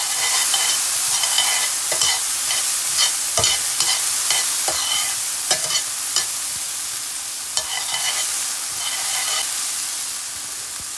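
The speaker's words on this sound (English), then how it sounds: "I start off with the onions and carrots first. I'm going to cook it slightly." Onions and carrots cooking in a little oil in a pan, with a steady sizzling hiss and repeated sharp scrapes and clacks of stirring, close and loud throughout.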